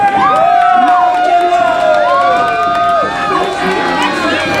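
Pro wrestling crowd cheering and shouting loudly throughout, with whoops and a commentator talking over the noise.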